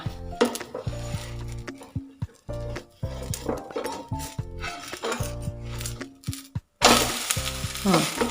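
Onion dosa frying in oil on a hot pan, loud close sizzling broken by sharp clinks and scrapes of a spatula as the dosa is lifted and flipped, with a brief pause then a renewed burst of sizzle.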